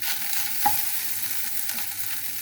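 Cooked rice fries in a pan with a little oil and salt, a soft, steady sizzle close by, with a few scraping stirs of the spatula and no talking.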